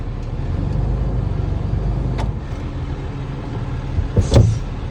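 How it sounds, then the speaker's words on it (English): A waste service truck brakes to a stop from about 5 mph. There is a steady, low rumble of the vehicle, with a couple of brief clunks and a short louder burst near the end. "I'm going to hit the service brake to stop the truck"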